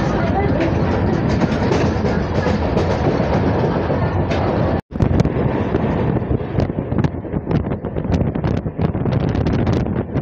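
A passenger train at Biswanath Chariali railway station, with loud steady rumbling and wind buffeting close by, a brief dropout midway, then rattling clicks over the rails as it carries on.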